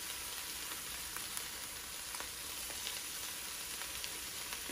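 Green, orange, yellow and red capsicum fry with a sprinkle of salt for South Indian style shrimp noodles, giving a steady, even sizzle with faint crackles throughout and no talking.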